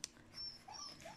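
An adult dog whimpering outdoors while picking up the scent of a new puppy litter: thin, high, drawn-out whines followed by a few softer, lower whimpers, faint and brief with no talking.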